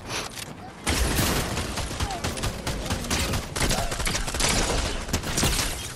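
SMG gunfire in the Fortnite video game, a loud, dense burst of rapid shots filling most of the stretch, with faint game sounds beneath and no clear talk.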